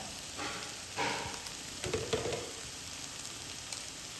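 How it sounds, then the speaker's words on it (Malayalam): Onion, carrot and beans soften in a hot pan, sizzling softly and steadily with a few stirring scrapes and swells of frying, with no talk over it. "നമ്മളെ ഉള്ളി ക്യാരറ്റ് പയർ ഇതെല്ലാം നല്ലോണം ഒന്ന് വയന്ന് വന്നിട്ടുണ്ട്"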